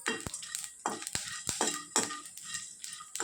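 Cumin seeds, biryani flower and dried red chillies fry in hot oil in a pan, giving a steady close sizzle broken by sharp scraping stir strokes and the clink of a spoon against metal, with no voices.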